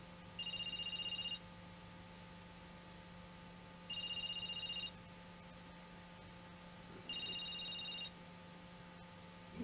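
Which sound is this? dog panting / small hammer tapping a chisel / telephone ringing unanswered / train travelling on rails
telephone ringing unanswered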